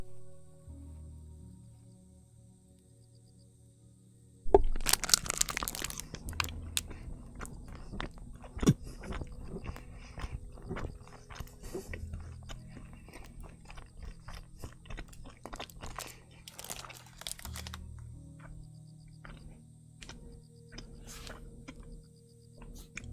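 A person chewing loudly and wetly near the microphone to imitate a horse eating, irregular squishy crunching bites over a quiet background, with no talk.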